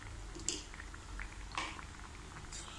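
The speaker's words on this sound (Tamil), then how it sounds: "கொதிக்கட்டும்." Yam avial curry simmers in a pot, giving soft, faint bubbling and occasional small pops at a close, quiet level.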